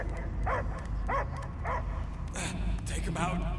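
Dog barks from the Guardians of the Galaxy video game, several short yipping barks in a steady series set against a game soundtrack and voices talking.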